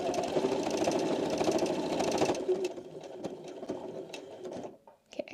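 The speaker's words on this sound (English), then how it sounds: "we're going to backstitch one more time because we have to secure the end of our seam" Sewing machine stitching a seam on a cloth napkin, a fast, steady mechanical whir that runs for about two seconds, then slows to a lighter rattle, followed by a few clicks and a brief quiet.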